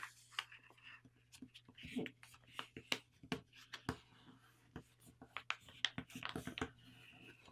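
Paper being folded and flattened while creasing a paper airplane, with soft, close crinkles, rubs and sharp little taps scattered throughout over a faint steady hum.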